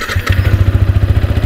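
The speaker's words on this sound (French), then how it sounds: "tu vas pouvoir entendre le son du moteur de cette machine" A Yamaha MT 125 motorcycle engine catches and settles straight into a loud, close, steady idle with rapid even thumping pulses.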